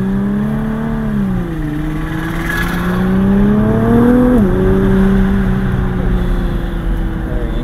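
A stock Nissan GT-R supercar accelerates on a street, its engine note rising steadily through the gears with a brief dip at a shift, loud and close throughout.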